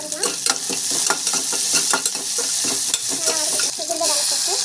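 Loud, close sizzling of cumin seeds and nuts frying in a hot pan, with rhythmic scraping and stirring strokes throughout, no voices.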